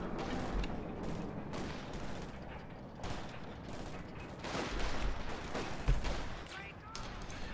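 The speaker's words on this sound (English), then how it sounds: "And also doing the Ziss barrage." ZiS gun artillery barrage in the Company of Heroes 2 game, a dense run of overlapping booms and crackling impacts with occasional louder thumps, continuous throughout.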